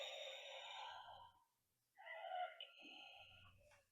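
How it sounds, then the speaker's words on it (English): Raspy, wheezing breathing effect from a Darth Vader helmet, a long drawn inhale, a pause, then a rasping exhale, close and alone. "So it's the wheezing breathing,"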